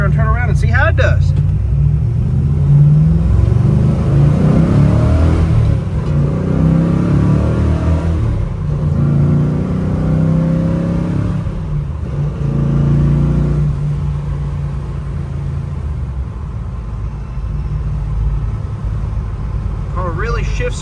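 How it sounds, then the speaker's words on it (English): A 1966 Chevrolet Chevelle SS 396 V8 drives and accelerates with a steady, loud low engine rumble and rising revs, while someone talks over it throughout. "Car really shifts good. It's got good power. Just an excellent running, driving car"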